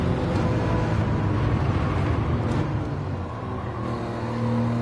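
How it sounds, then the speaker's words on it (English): A car engine in the Gran Turismo 7 racing game makes a coarse, grating, rasping drone, loud and continuous with a slight dip in the middle, and no talk over it. "Can you hear that engine? It sounds like it's got like a cheese grater on it or something."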